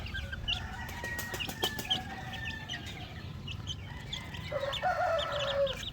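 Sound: oriental fowl chickens in their cage

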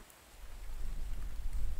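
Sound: rain in The Infected video game

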